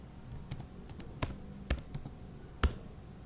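Keys struck on a computer keyboard while entering the arp -d command in a Packet Tracer networking exercise, a handful of sharp, separate clicks spaced irregularly over quiet background hiss.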